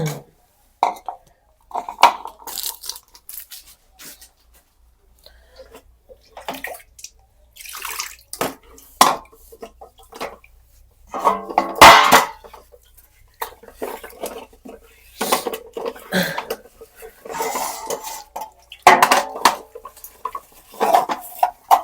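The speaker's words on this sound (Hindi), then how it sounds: "बर्तन धोते हैं" Dishes being washed with water and soap at a home sink in India: scattered clinks and clatters of pots and utensils, splashes and rinsing bursts come in irregular clusters separated by quiet pauses, close up with no talking.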